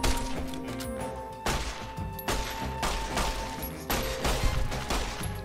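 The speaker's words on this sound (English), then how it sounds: "This madman is opening fire." Bursts of gunfire in Fallout: New Vegas, several sharp cracks spaced about a second apart over game music and ambient noise, moderately loud.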